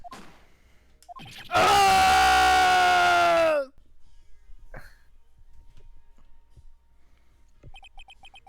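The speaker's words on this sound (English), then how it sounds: "It's a bone-chilling scream." A loud, bone-chilling scream in Phoenix Wright: Ace Attorney, a sustained wailing cry lasting about two seconds and then cutting off abruptly, with quieter ambient sounds before and after.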